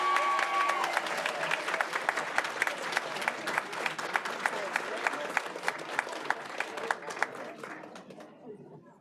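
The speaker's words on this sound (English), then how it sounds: "One more round of applause for Morgan Kincaid" An audience in a Board of Education meeting applauds Morgan Kincaid students: a dense, sustained round of clapping that thins out and stops near the end.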